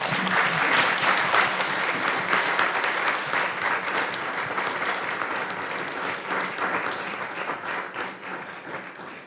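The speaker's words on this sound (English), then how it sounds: "Please, let's give them all a round of applause." Sustained audience applause fills a board meeting room, a dense, steady wash of many hands clapping that holds loud throughout and tapers only slightly toward the end.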